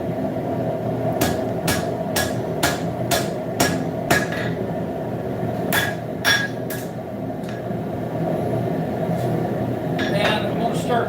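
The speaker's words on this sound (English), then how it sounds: "And I'm going to start forging that out." Hammer blows forging a horseshoe into a letter opener, about a dozen sharp ringing metallic strikes in an uneven rhythm over steady low shop noise, close and loud, with no talk.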